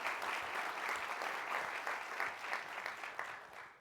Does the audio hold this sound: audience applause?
yes